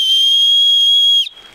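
A single loud, steady blast from a safety whistle on the chest strap of an Osprey Rook 65 backpack holds for over a second, then cuts off sharply.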